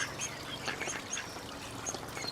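Ducks flying in to a garden, arriving with a scatter of quacks and calls over steady background noise, moderately close.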